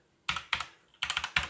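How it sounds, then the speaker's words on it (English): Mechanical gaming keyboard keys clack in four quick, close bursts of several sharp presses each, with a short pause between bursts, alone in a quiet room. "this is a mechanical gaming keyboard"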